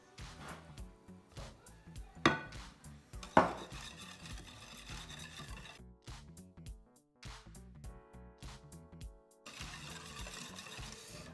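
Whipped eggs and oil being mixed in a bowl for small coconut cakes, with repeated clinks and scraping of a utensil against the bowl in an uneven rhythm, close and moderately loud, with no talking.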